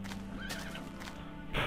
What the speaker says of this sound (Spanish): ¿Cómo se atraen a los caballos?